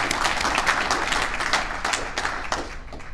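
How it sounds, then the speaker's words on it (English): Audience applause at the 2024 Ontario Squash Hall of Fame induction ceremony, a brief burst of many hands clapping, moderately loud and gradually thinning toward the end. "big round of applause for you"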